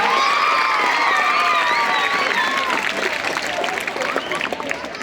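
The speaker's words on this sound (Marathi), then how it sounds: "सुनील माने सरांच्यासाठी जरा जोरदार टाळ्या." A crowd applauds and cheers steadily at a school event honouring a teacher, with a high voice or whistle sweeping over the noise and claps thinning slightly toward the end.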